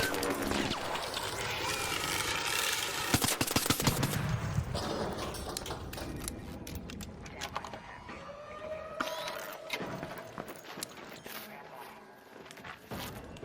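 Gunfire and mechanical impacts in the ARC Raiders video game, a dense, busy mix of bursts and clatter running throughout, with a voice talking over it.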